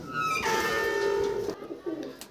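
A pigeon at a loft gives a few soft, steady cooing calls close by, with a brief break and then another short coo near the end.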